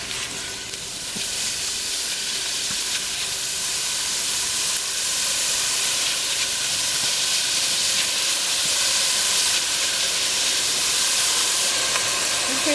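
Vegetables for a lentil and sausage soup sauté in a pot with a steady, close sizzling hiss that holds throughout, broken by faint stirring clinks.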